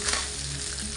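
Fish frying in oil in a pan over medium heat, a dense continuous sizzle, loud and close, with no talking.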